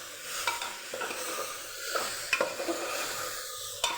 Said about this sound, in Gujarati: એને પણ મસાલા સાથે સરસ આપણે સાતળી લઈશું